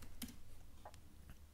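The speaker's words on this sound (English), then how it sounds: "You need to type in your password." A password is typed on a computer keyboard as a few soft, scattered keystrokes, quiet and close, over a low background hum with no talking.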